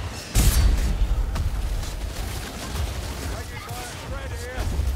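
A Skaven ratling gun firing in Warhammer Vermintide, a loud blast followed by rattling rapid-fire shots and combat noise, with a character's voice calling out over the action.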